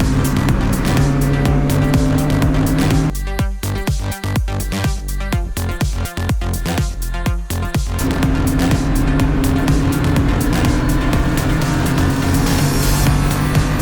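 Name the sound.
race cars passing on track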